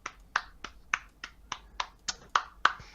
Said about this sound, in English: Ashoka will golf clap.